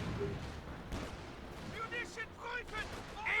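Mortar artillery fire in a video game, a few dull thumps and rumbling impacts scattered through the stretch, partly under someone talking.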